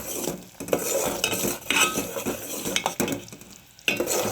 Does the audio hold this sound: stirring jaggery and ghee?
yes